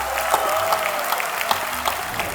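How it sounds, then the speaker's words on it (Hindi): An indoor audience at an ICAI event claps for the prime minister, steady dense applause from a crowd with scattered sharper claps standing out, continuous and moderately loud throughout. "एक बार हमारे प्रधानमंत्री जी के लिए तालियां बजाएं आप सब लोग।"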